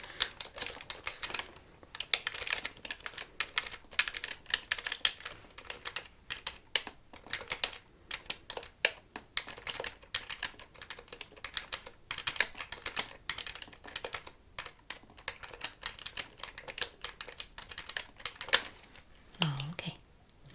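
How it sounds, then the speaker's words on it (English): Fingers type steadily on a computer keyboard in a quiet room during a hearing test, producing a fast, continuous patter of light key clicks up close for about twenty seconds, with a brief low voice near the end. "Let me type in the results."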